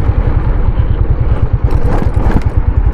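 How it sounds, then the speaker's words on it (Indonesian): A motorcycle climbs a steep village road from below, its engine chugging in a rhythmic, mid-pitched throb that stays close and fairly loud, alone without speech. "tuh ada motor tuh dari bawah"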